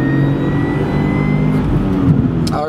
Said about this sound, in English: There's our rev limiter.